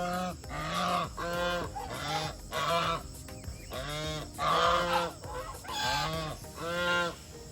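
A flock of geese at a farm honking loudly and repeatedly in overlapping bursts, harsh nasal calls coming close together, near and with no talk.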